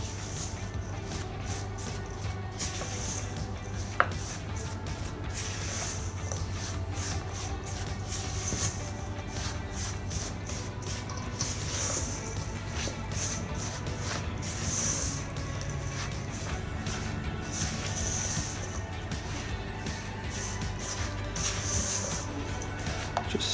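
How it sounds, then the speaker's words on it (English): Hot cross bun dough with sultanas or raisins being stirred and folded with a spatula, soft continuous scraping and rubbing sounds, fairly faint, over a steady low hum. "Just stirring it, folding it,"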